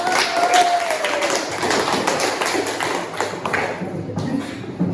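Classroom applause, a group of students clapping steadily for several seconds, a dense patter of claps at moderate loudness with faint room murmur.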